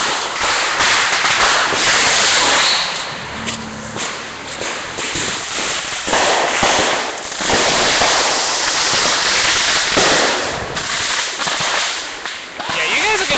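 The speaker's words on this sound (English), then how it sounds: "it's an amazing fireworks show" A dense, loud barrage of fireworks and firecrackers at a family show, sustained crackling and booming with little pause, mixed with voices of people nearby.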